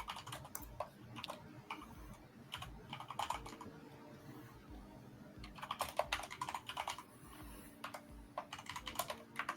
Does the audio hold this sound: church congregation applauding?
no